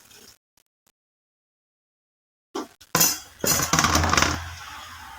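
Cut okra (lady's finger) dropped into masala in a pan for a GSB-style curry: a brief clatter and spoon scrape, then a steady close sizzle. Before it comes a long stretch of near silence with faint knocks.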